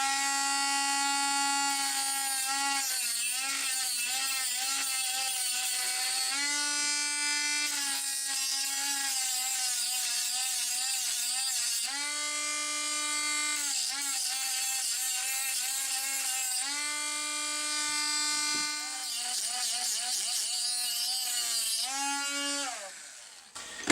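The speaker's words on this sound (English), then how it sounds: "so I might be able to get the burrs off with this." A small high-speed rotary tool grinds burrs off a metal part of a bending die for a Datsun 521 ball joint modification, whining in repeated bursts as it touches the metal and eases off.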